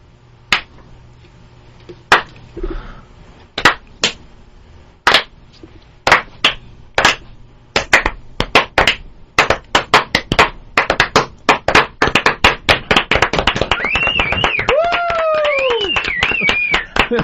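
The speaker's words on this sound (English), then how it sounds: "Love the slow clap." A slow clap in a radio studio: sharp single hand claps, widely spaced at first, gather pace into a quicker run of claps, with a voice or whoop rising near the end.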